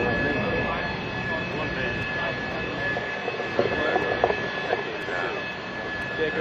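AV-8B Harrier jet engine running at a steady loud whine and roar before a vertical takeoff at a military open house, with a continuous high tone over broadband rumble and a crowd audible faintly underneath.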